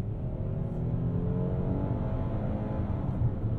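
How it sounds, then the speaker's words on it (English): A 2022 Hyundai Palisade rolls over a rough road section, heard from inside the cabin as a steady low rumble of engine and road noise. "We're coming up on the rough road slash rough ride section here."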